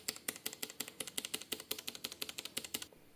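Typing on a KEMOVE K98SE keyboard with Long Hua switches, a fast steady run of about twenty crisp clacky keystrokes, close and clear, ending in a short pause.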